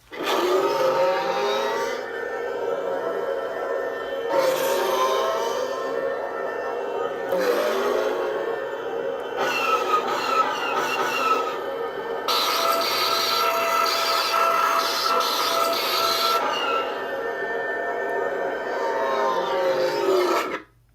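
A lightsaber sound font's buzzing, growling electronic hum swells and shifts in pitch in repeated sweeps, with crackling bright flares in between, loud and continuous.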